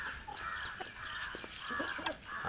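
A Punjab Broiler rooster in a large extended coop gives a drawn-out, warbling crowing call, moderately close, against a soft outdoor background.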